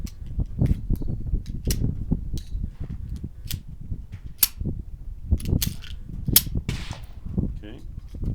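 A Kel-Tec P-3AT pistol under repair has its trigger pulled repeatedly, giving a series of sharp, close mechanical clicks and snaps at irregular intervals over a low background rumble.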